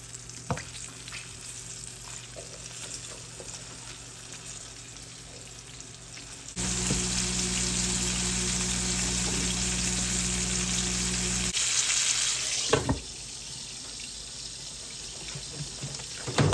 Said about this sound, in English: I'm going to heat up some Smart Balance cholesterol-free oil blend for the pork chops.